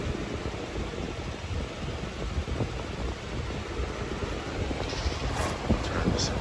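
Steady broadband whoosh of airflow from a 1999–2000 Holmes Power box fan, model HABF-25, running continuously at close range, with faint handling bumps near the end and no talking.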